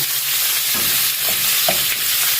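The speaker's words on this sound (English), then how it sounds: "We're going to add our ground beef or our ground venison." Ground beef or venison hitting a hot pan that still holds oil from earlier frying, giving a loud, dense, continuous sizzle with a few soft shuffling bumps as the meat settles; no voices.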